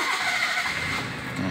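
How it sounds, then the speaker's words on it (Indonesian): The engine of a used sedan runs loud and steady at close range, a continuous rumble with a slight rise in revs and no speech over it. "mesin jreng ya"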